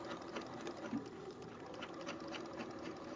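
Sewing machine back-stitching a seam in pajama fabric, a faint, steady rapid whir with a soft pulsing needle rhythm, quiet and continuous throughout.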